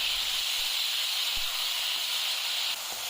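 Tomatoes frying in a pan for a traditional Assamese small-fish and mustard dish give a steady, close hiss that runs through the whole clip, with faint clicks underneath and no talking.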